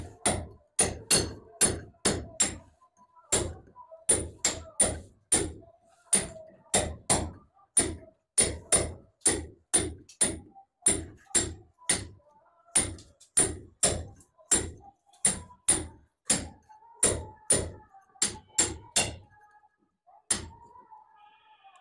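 Manual cutting of a picket brick wall with hand tools instead of a grinder: a long run of sharp, evenly paced hammer strikes, loud and close, with a few brief pauses and no speech.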